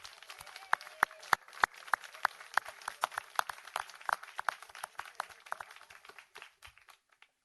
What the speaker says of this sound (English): So let's give her a big round of applause again.